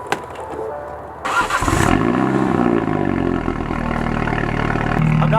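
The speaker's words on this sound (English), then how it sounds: "I'm gonna give you 2 cold starts today" A car is cold-started at night: after a quiet second, the engine cranks and catches with a sudden loud burst, then settles into a deep, rough, steady idle close by.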